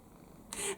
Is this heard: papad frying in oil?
no